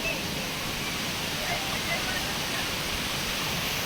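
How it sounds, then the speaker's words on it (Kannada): Doddametrai falls in Tamil Nadu gives off a steady, dense roar of falling water, broad and unbroken throughout, with a voice faintly audible beneath it. "Water falls."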